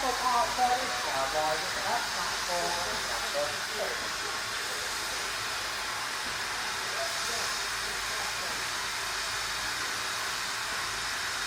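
The Stirling Class 01 steam locomotive returns from East Grinstead on the Bluebell Railway, giving a steady hissing rush of steam and rolling rail noise heard at a moderate distance.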